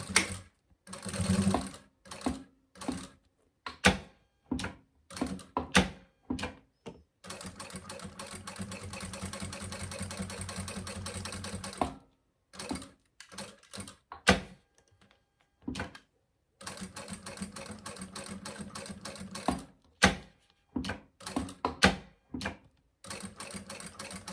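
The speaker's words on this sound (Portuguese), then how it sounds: "Agora, a gente vai passar uma costura em todo o redor dele." A sewing machine stitches around the edge of a fabric luggage tag, running in short bursts and longer steady runs broken by pauses, close and loud, with no talking.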